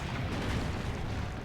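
Cannon fire in Assassin's Creed Brotherhood, heard as a dense, continuous rumble of booming low-end blasts that sounds like distant artillery, loud and sustained with no voices.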